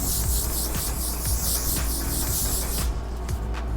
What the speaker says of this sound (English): I'm gonna go in and spray my face.